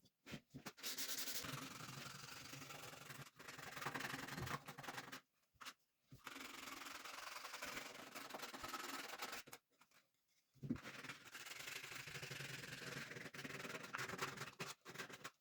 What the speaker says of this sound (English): sanding the inner part of a circle is not very fun, but it needs to be done